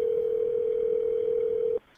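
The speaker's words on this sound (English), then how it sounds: "A phone call no parent ever wants to make." A steady telephone dial tone hums loud and unbroken at the start of a 911 call, then cuts off abruptly near the end.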